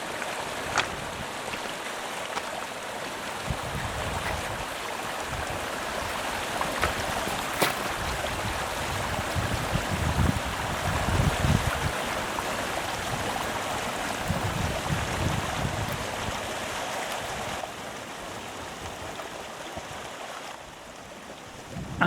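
A small stream flows into a quiet bay, giving a continuous wash of rushing, splashing water that stays fairly even throughout with occasional stronger surges and faint wind.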